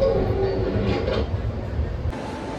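A Washington DC Metro train rumbles through the station with a steady low roar and a faint high squeal early on, heard close and continuous, with no voices.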